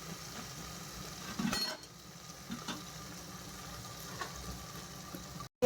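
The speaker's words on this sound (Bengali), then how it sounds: "টমেটোটা দিয়েও এখন একটু তেলের উপরে ভেজে নিই।" Tomato with onion and garlic frying in oil, a low bubbling sizzle broken by a few spoon scrapes and a brief clatter, fairly quiet and without speech.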